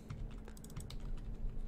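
Fingers tap at a computer keyboard in a quick, light patter of close keystrokes, with a steady low hum beneath.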